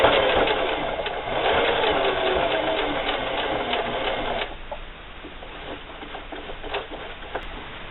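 Sewing machine running a zigzag stitch on denim for a wallet, a fast rhythmic close whirr for several seconds, then slower, quieter intermittent stitching.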